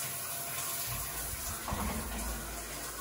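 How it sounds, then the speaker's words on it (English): A shower left running in a long-unused water system, steady moderate rush of water at close range with no voices. "Yeah, I think they left the shower on, dude."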